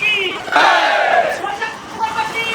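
A crowd celebrating at Chhatrapati Shivaji Maharaj Chowk in Vashi, Navi Mumbai, at a BJP gathering, loud close shouting and chanting voices that swell, dip briefly and rise again.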